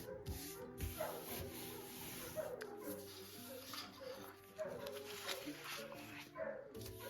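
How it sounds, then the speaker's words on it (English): Pet dogs barking in the background of an indoor paper-trimming session, scattered yips and whimpery barks, muffled and at mid-distance, partly under a steady hum and some voice. "I don't know if you guys can hear my dogs, but they're evidently barking at the bad guys"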